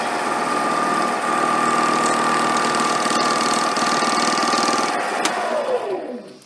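A metal lathe with a 4-jaw chuck hums steadily while taking a deep cut, with a sustained whine and vibration that winds down as the spindle slows at the end.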